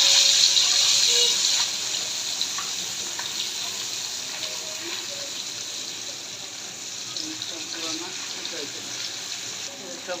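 Shing fish sizzle in hot oil, a bright hissing spatter that is loudest at first and then settles into a softer steady fry with small pops and crackles.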